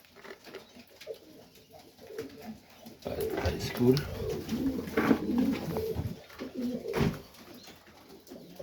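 Pigeons cooing in a loft, soft low repeated coos that rise through the middle of the clip, with someone speaking quietly over them.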